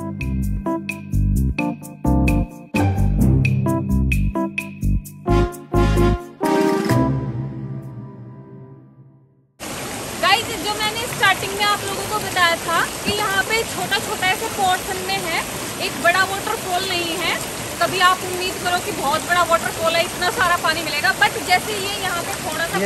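Water rushing steadily at Vattai waterfalls in Kerala, a dense, constant roar. It follows a stretch of rhythmic music that fades out.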